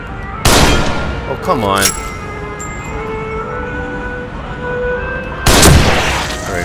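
Gunfire in The Evil Within, a horror video game set in a carnival stage: two loud sharp shots several seconds apart, the first followed by a reverberant mechanical rattle, with a brief spoken remark from a player between them.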